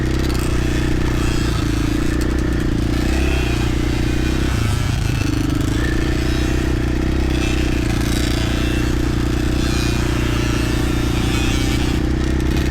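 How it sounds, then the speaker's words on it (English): A small motorbike climbs a hill, its engine droning loud and steady with a low rumble, shifting pitch briefly near the middle amid faint rattling and scraping. "I can hear the bike, a little bit more of the power"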